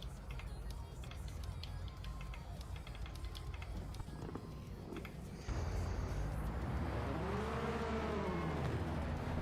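Race car engine revving in a racing video game, a steady loud engine drone that jumps in pitch and level midway, with rising and falling rev sweeps near the end; a voice is faintly present.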